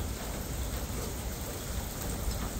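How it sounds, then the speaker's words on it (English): Steady rain falling, a dense even patter and hiss throughout with no breaks, moderately loud and close. "Hear the rain,"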